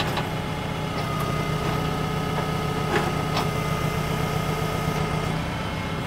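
A Lastec XR700 mower engine runs at a steady idle-like drone close by while its deck is lowered, with faint clicks and knocks over the continuous low rumble.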